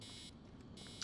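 An electronic alarm in the Animus interface of Assassin's Creed Origins beeps in two steady, shrill tones separated by a short gap. It sounds close and clean, with no talk.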